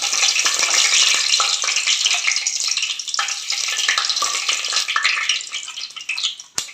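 Bay leaf sizzles in hot oil in a pan while Tamil-style tomato rice and gravy are cooked: a dense, steady frying crackle, close and loud throughout, with no voices.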